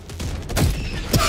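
A rocket strikes in the video game Helldivers, and a rapid burst of explosive blasts cracks out in quick succession, loud and close, with a second sharp hit near the end.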